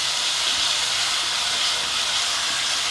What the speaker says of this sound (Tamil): ஸோ அது நல்லா கொஞ்சம் வதங்கி லேசாக ப்ரௌன் ஆகட்டும்